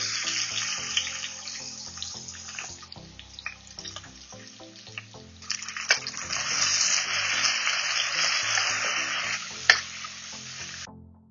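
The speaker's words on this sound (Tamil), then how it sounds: "இப்போ நம்ம போட்டிருக்க ஆனியன் நல்லா கேரமைஸ் ஆக ஆரம்பிச்சிருச்சு." Sliced onions, green chillies and spices fry in hot oil for vegetable biryani: a strong continuous sizzle that swells louder midway, with scattered clinks and scrapes of stirring and one sharp knock near the end.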